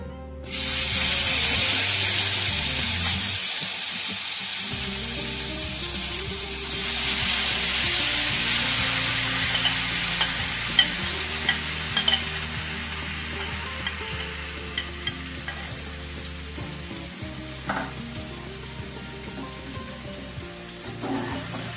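Masala frying in oil for paneer tikka masala, a loud spraying sizzle that bursts in, briefly drops away, then returns and settles into steady crackling with sharp pops and stirring scrapes.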